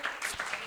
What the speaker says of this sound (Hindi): यीशु मसीह के लिए कलीसिया जोरदार तालियां बजाए।